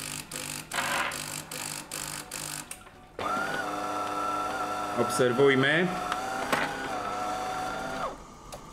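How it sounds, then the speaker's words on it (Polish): An electric heater element warms flowing water, giving a steady buzzing hum with warbling tones after a burst of clicking at the start; a person speaks briefly near the beginning. "Słychać, że grzałka się odparowuje."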